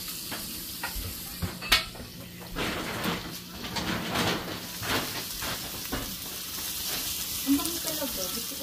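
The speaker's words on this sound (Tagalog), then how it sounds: "Ito po, nagluluto po kami ng pansit ngayon." Pancit noodles fry and sizzle in a pan while a utensil stirs and scrapes repeatedly, with a steady hiss underneath and several sharp clanks, close and fairly loud.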